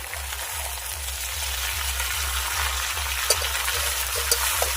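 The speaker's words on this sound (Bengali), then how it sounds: "কেটে রাখা শাকগুলোকে দিয়ে দিচ্ছি এবার ভালো করে মিশিয়ে নেব" Chopped greens for a Bengali tita dish hiss in an oiled pan, a steady, close, loud sizzle filling the whole stretch, with a few faint scrapes of stirring and no talking.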